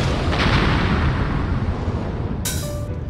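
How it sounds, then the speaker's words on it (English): A booby-trapped treasure chest explodes in Dark Souls 2, a loud low rumbling blast that fills the clip and fades slowly, with a brief bright crackle near the end. "This chest will explode in 3, 2,"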